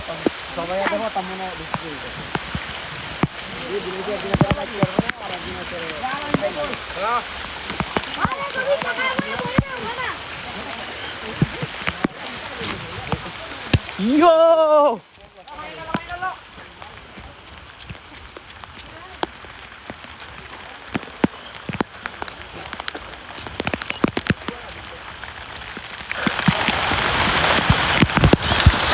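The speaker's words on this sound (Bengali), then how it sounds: "তো আমি একটু গাছ থেকে নেমে আকাশের নিচে চলে যাচ্ছি বৃষ্টি অনুভব করার জন্য।" Rain falls outdoors among wet village trees, a steady hiss and patter under someone talking almost the whole time, growing heavier and louder near the end.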